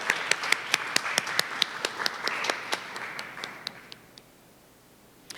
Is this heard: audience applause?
yes